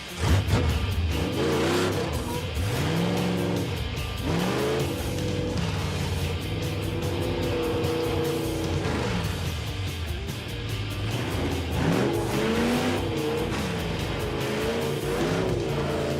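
A 1973 Dodge Dart Street Freak rounds a turn on soft, underinflated tires, its engine droning loud and steady throughout with rising and falling revs, and a continuous roar dominating with no talk over it.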